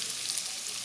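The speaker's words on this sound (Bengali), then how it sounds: "প্রথমে একটু দারচিনিটা তেলে ভেজে নেব" Cinnamon frying in hot oil for a spicy aar fish curry gives a brief, even sizzling hiss, close and steady, with no voices.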